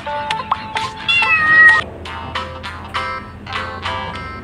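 Several cats meow and yowl in quick succession during a playful chase indoors, with high, drawn-out cries alternating with short chirps, close and fairly loud, and no talking.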